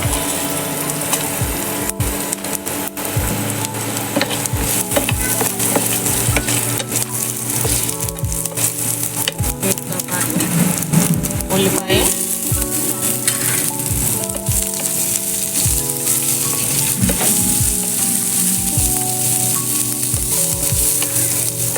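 Spice masala with cardamom and cashews fries in oil, a loud continuous sizzle broken by frequent scraping and stirring strokes of a spoon in the pan.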